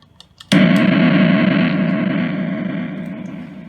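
An electric guitar runs through a TCT Delay Jr. delay pedal: after a few faint taps, a loud chord strikes and rings, its repeats washing into a dense, slowly fading delay tail, alone and close.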